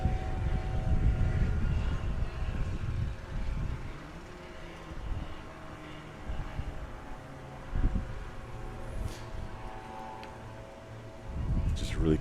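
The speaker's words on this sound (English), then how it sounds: "Just really cool to see all these souped up sport class aircraft doing their thing out here." A souped-up sport class STOL aircraft departs at a STOL competition in St. Joseph, Missouri, its propeller engine droning loud at first and then easing off as it pulls away, with faint voices around.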